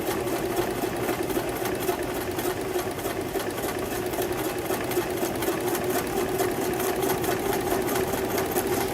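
A sewing machine runs steadily at a moderate pace, its rapid mechanical stitching chatter loud and close throughout, with no talking.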